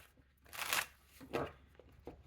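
Tarot cards shuffled close by in a quiet room, with two quick riffling bursts and a few softer card taps.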